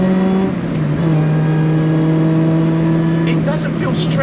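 Supercharged Honda Prelude track car engine running hard, heard from inside the car as a loud, steady droning tone that holds pitch and then climbs slightly, with occupants talking over it.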